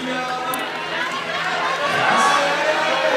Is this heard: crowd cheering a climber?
yes